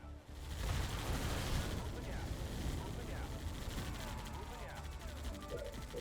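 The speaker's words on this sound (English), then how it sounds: "that carpet bomb sent me back pretty far" Carpet bomb strike in Halo Wars: a dense, continuous roar of rapid explosions and booming impacts rolling on for several seconds, loud and sustained without any speech.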